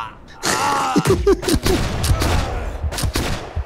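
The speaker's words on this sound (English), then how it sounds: "The gun is called Duckfoot" The Duckfoot volley gun fires in the pirate ship game Blackwake, sharp bursts scattered among creaks and mechanical clatter, while people talk and shout over the action.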